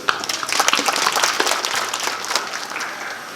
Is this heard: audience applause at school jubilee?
yes